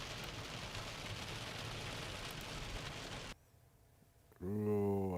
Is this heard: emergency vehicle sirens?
no